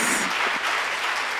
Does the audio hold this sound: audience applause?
yes